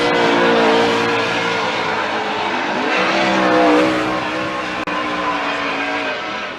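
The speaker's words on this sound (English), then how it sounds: "Just over-driving his Ford Mustang is JTP, man." A Ford Mustang drift car at a Formula Drift event in Atlanta, its engine wailing and revving continuously with tire squeal, loud and sustained throughout.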